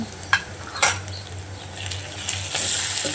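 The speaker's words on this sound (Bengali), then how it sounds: "একটু হালকা হালকা ভেজে নেব ভেজে ভেজে না হয়ে গেলে এখানে আমি রসুন দিয়ে দিয়েছি সাথে জিরার পাতা দিয়ে দিয়েছি" Dried fish frying in a pan with garlic and cumin leaves, a low steady sizzle broken by a few sharp scrapes of a utensil stirring against the pan.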